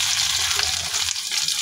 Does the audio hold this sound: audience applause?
no